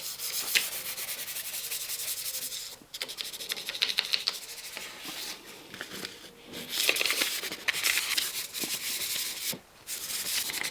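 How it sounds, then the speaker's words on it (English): Steady hand buffing of a wood finish on a Singer treadle table with fine sandpaper, a continuous soft scratchy hiss in back-and-forth strokes with brief pauses, close by. "So it's not really sanding, it's more buffing."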